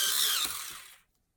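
Colouring pencil being resharpened in a sharpener, a brief close whirring grind lasting about a second before fading to silence.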